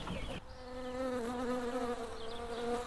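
Bees buzz on a farm, a steady close droning hum with a slightly wavering pitch that holds for a few seconds with no voices.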